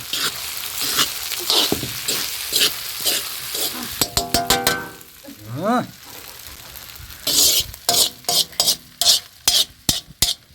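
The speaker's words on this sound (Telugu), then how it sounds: "కలుపుకుందామండి ఇట్లా కలుపు" Chicken rice being stirred and mixed in a pan, with a spoon scraping and tapping the metal in repeated strokes over a soft sizzle, close and fairly loud, with a voice speaking briefly.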